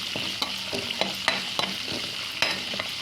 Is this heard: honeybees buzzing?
no